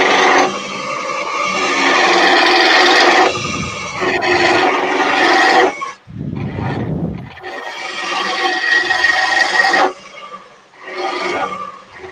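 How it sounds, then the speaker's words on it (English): A blunt roughing gouge cuts spinning wood on a lathe, producing loud, rough, broadband scraping in long sustained passes with brief breaks between them. "That roughing gouge sounds as blunt as hell too."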